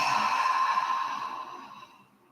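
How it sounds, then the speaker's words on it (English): A slow breath let out through the mouth while seated at a desk for a neck stretch, a single soft airy exhale near the listener that tapers away over two seconds with no talking. "And let it out the mouth."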